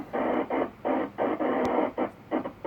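Scratchy radio transmission on the 2 meter amateur band through a Yaesu FTDX101D transceiver, bursts of hissy, band-limited noise pulsing on and off in an irregular rhythm at moderate level, with no clear talking.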